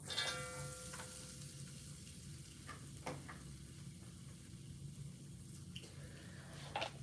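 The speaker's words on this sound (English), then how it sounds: "I'm gonna add the garlic first, so I'm gonna go in with the garlic." Garlic frying in a pan: a steady, quiet sizzle continues throughout, close by, with a few faint clicks and stirring scrapes over it.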